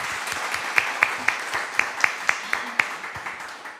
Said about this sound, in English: hope that the YouTube stream picks up the applause